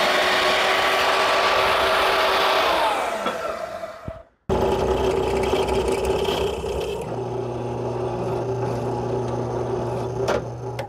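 A ratchet tightens a bolt on a custom brake pedal bracket for a 1936 Chevy truck, a steady loud mechanical clicking and whirring that drops out briefly near the middle, then resumes.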